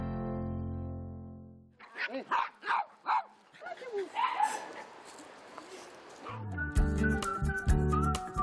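Dogs bark during a group walk meant to socialise them, with a run of sharp, rhythmic barks and yips followed by whimpering, set between a tonal jingle at the start and music at the end.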